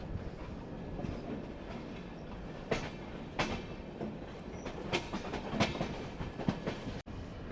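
Train 17040 rolls into Kollam railway station with a continuous rumble and rhythmic clickety-clack of wheels over rail joints, a few sharper clanks standing out, heard from on board.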